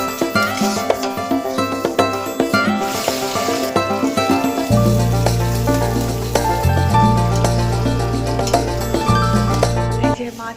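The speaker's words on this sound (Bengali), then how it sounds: "আর এদিকে পমপ্লেট মাছ ভাজছে" Pomfret fish frying in hot oil crackles and sizzles continuously, mixed with a steady low hum and other busy household kitchen sounds.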